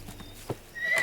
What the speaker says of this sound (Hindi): ये घोड़ा तो मेरे पापा से भी बुरा है।